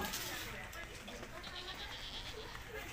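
Goat bleats in a village setting, faint and repeated against a busy, noisy background with people talking nearby.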